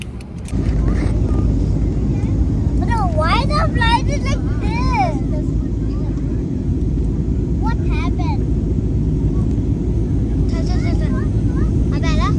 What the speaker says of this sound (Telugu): ఇంకా ఫ్లైట్ అయితే టేక్ ఆఫ్ అయిందనమాట